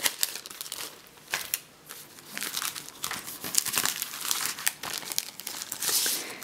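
A plain pink paper envelope being handled, with repeated crinkling and rustling of paper in irregular bursts, close and fairly loud, without any voice.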